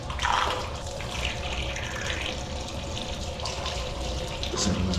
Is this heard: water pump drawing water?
yes